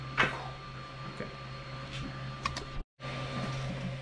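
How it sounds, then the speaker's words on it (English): An Ender 3 V2 Pro 3D printer runs up close with steady motor whine and hum. Small clicks and brief movement noises come through, and there is a short break in the sound near the end. "So here is our new 3D printer."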